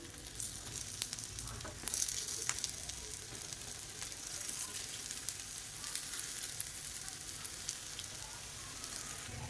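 Paniyaram batter frying in oil in the wells of a paniyaram pan, made as a Karthigai Deepam offering, gives a faint, even sizzle with light crackles throughout and no speech.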